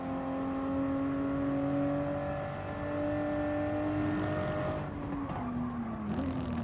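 In Gran Turismo Sport, race cars in a Toyota Gazoo Cup event at Laguna Seca run with a steady engine whine and hum. The engines are sustained and fairly loud, and the pitch shifts near the end as the cars change gear.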